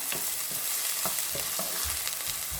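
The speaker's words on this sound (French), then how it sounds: "J'ajoute aussi le poivron rouge. Je vais bien faire revenir." Diced red bell pepper sizzles in a paella pan, a steady hiss of frying with light, regular stirring scrapes, close by and without talk.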